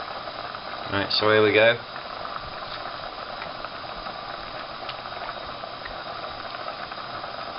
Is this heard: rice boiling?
yes